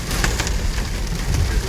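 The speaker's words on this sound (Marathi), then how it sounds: "बर्फ पाऊस दोन्ही" Rain mixed with snow drums steadily on a car's windshield during a drive through the mountains from Shimla to Manali, a dense, continuous close patter with no talk.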